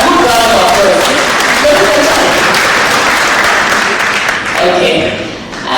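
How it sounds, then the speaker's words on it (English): Loud, sustained applause from an audience welcoming a professor from Jomo Kenyatta University of Agriculture and Technology at a formal event, a continuous close wash of clapping that eases slightly near the end. "Let's give a good round of applause."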